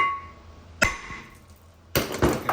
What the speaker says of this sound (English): give it a good smack with your hammer